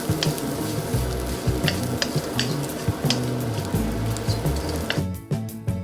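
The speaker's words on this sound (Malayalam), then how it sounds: "2 പച്ചമുളകും 5 മുതൽ 6 വരെ വറ്റൽമുളകും കുറച്ച് കശുവണ്ടിയും 1/4 കപ്പ് തേങ്ങാക്കൊത്തും ചേർത്തിട്ടൊന്ന് ഇളക്കി കൊടുക്കുന്നുണ്ട്." Green chilies, dried red chilies, cashews and coconut bits sautéing in a pan for a masala curry, a loud close sizzle with repeated spoon-stirring scrapes that drops away near the end.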